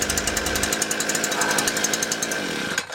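A HYMT5200X engine runs close and loud with a rapid, pulsing chug that steadies as it is throttled down toward idle, then drops off right at the end.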